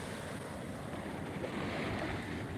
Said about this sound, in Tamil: இன்றைக்கி கொஞ்சம் கடல் சீற்றமாக இருக்குது